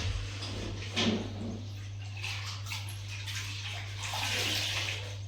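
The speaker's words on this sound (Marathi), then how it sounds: "आता इकडं ना कढी उकळती छान" A pot of kadhi, a yogurt curry with pakoras added, simmers with soft, faint bubbling and gentle sloshing over a low steady hum, with no voices.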